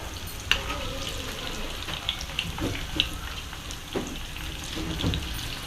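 Ingredients for paneer biryani fry in a pot, a steady sizzle broken by scattered clinks and scrapes of stirring, close by with no talking.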